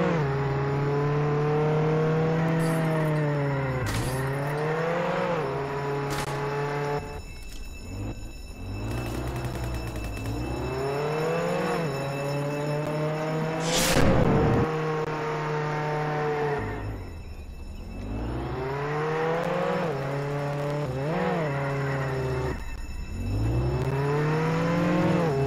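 Game car in Roblox Jailbreak revs up and down steadily through repeated gear shifts, engine tone rising and falling for the whole stretch, loud and close with no talking.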